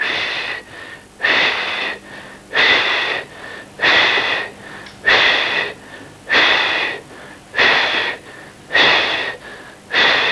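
Group breathing exercise in a singing lesson, pushing the breath out in forceful, regular bursts, about eight strong exhalations in a steady rhythm, loud and close with no talking.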